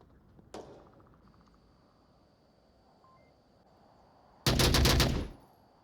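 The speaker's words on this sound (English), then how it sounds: "not seeing who Dex is shooting at" Gunfire in the VR shooter game Onward: a single sharp shot early on, then a loud rapid automatic burst near the end, with faint electronic beeps between.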